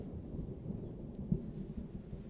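Thunder in a video game rumbles low and faint as a steady distant roll with a slight swell midway, heard alone.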